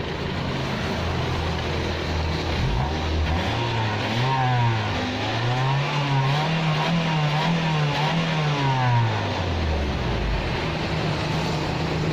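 Honda Jazz GD3 with its stock exhaust, engine revving up and down in steady, rising and falling sweeps, close and loud, alone with no voices throughout.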